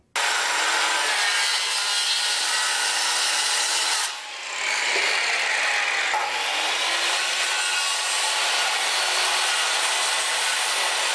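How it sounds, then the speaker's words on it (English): A saw cuts a 45-degree angle through a wooden roof rafter, loud and steady with a short dip partway through, with no talking. "I'm going to cut a 45-degree angle going this way, reverse the saw, cut a 45-degree angle that way"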